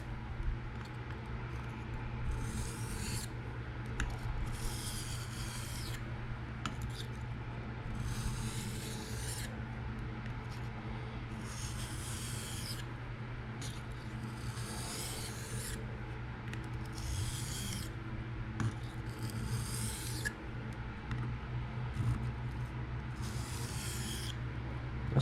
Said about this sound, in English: Now we can properly deburr.